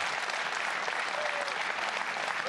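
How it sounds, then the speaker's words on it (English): Steady applause from a large audience at an LCS 2014 EU Spring Promotion esports match fills the whole stretch, dense and even without pause. "I think an applause is in order."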